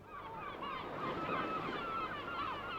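Gulls call repeatedly from a windy beach, their overlapping honking cries fairly faint and continuous over a soft background wash, with no voices.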